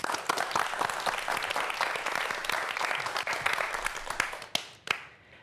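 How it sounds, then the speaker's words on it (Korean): A lecture audience on future food and edible insects claps steadily for about four and a half seconds, a dense, lively patter of many hands that thins to a few last isolated claps. "윤은현 연구사의 강연 큰 박수로 청해 보도록 하겠습니다"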